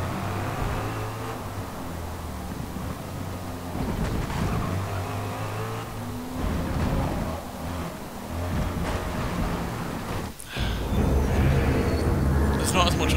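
Racing car engine in Forza Motorsport, a loud, continuous drone with shifting pitch as it accelerates and changes gear, with a brief dip near the end before it roars back.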